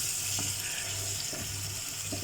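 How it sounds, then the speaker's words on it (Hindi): Potatoes for a king fish masala curry sizzle softly in a pan as water is added, a steady faint frying hiss with a few light stirring knocks and no talking. "अब इसमें हम पानी ऐड करेंगे इतना कि हमारा आलू टेंडर हो जाए।"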